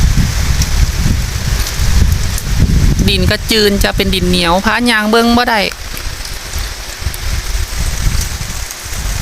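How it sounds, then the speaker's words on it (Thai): Steady rain patters down throughout, with someone speaking over it for a few seconds in the middle. "เพราะว่าฝนตกเนาะพี่น้อง"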